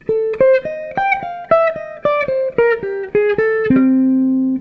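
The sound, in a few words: jazz guitar phrase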